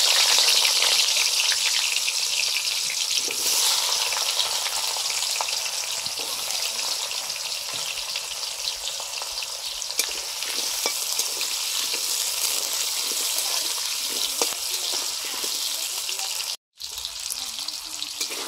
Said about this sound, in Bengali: মুড়ি ঘন্টে দেওয়ার জন্য আলুগুলো ভেজে নিচ্ছি।